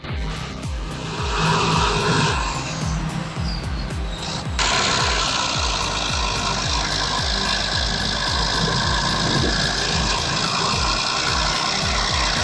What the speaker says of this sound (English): Engines roar, tires claw at the ground, and traction becomes the deciding factor in a pure steel versus steel showdown.